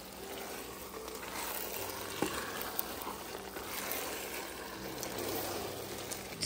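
Rice with red bell pepper and green peas is stirred in a pan, giving a faint, steady low sizzle with soft scraping and a couple of light clinks, quiet and close.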